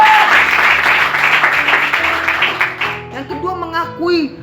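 A church congregation claps for God in steady, full applause for about three seconds before it fades into someone speaking, with the clapping tapering off under his voice.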